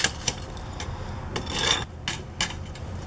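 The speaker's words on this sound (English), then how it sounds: "Now use a masonry hammer to chisel out the remaining mortar." Scraping, rasping strikes of a masonry hammer chiseling mortar around a foundation vent come in irregular bursts, a few sharp hits with gritty grinding between them, fairly close and without talk.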